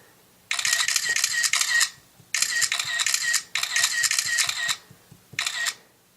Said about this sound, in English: what I want to do now is see how quickly the shutter is on the iPod versus the iPhone.